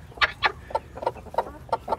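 A broody hen clucks close by, a quick run of about eight short clucks with no voices.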